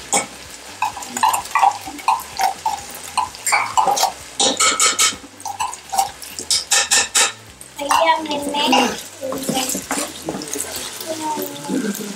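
Spoon stirring chicken macaroni ingredients in a cooking pot, with close, irregular scraping and sloshing strokes and a few splashes of water, while people talk now and then.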